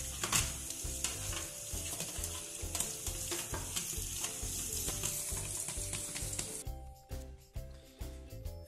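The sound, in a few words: washing an air conditioner filter under running water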